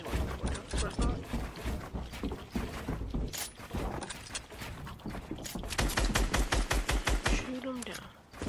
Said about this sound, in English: Just in case I'm gonna break this other wall.